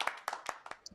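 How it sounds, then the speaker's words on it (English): Audience applause closing a crypto projects talk: a short burst of scattered hand claps, close and fairly loud, over about a second. "Let's give Victor a round of applause."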